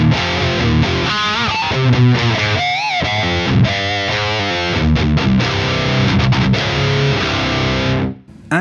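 An electric guitar plays through the crunch channel of a Diezel VH4 amp, boosted with an overdrive, giving a gritty distorted tone with chugged chords and bends, loud and close before cutting off at the end.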